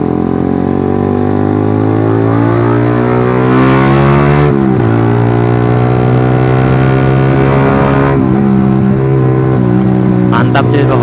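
A Suzuki GSX R150 with an aftermarket exhaust revs up and settles back down, its loud, raspy, tonal engine note rising and falling up close, with brief pauses between revs.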